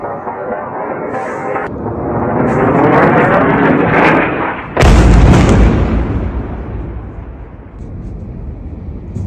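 Heavy blasts and rumbling from Israeli air strikes in Gaza, a sustained roaring barrage with a sharp, loud detonation about halfway through, then a fading roar, in news footage.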